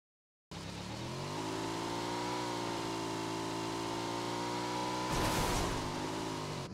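Motorcycle engine in the mobile battle royale game BGMI, a close, loud, sustained droning hum that starts abruptly and holds steady while riding, with a brief burst of noise near the end; no talk.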